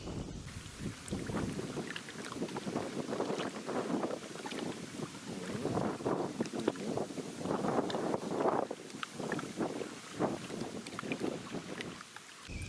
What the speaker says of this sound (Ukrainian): Та й вітер дує сильно.